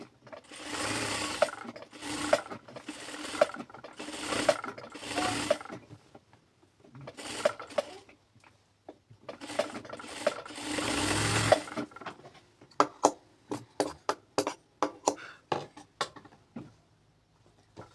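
A sewing machine stitches a dress's round neckline, running in close, loud bursts of rapid needle chatter with short pauses between them, then breaking into quick separate clicks toward the end. No one speaks.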